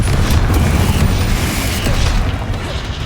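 A Confringo fire spell explodes in the Hogwarts Legacy video game, a loud, sustained booming blast with dense low rumble that stays heavy and continuous for the whole three seconds.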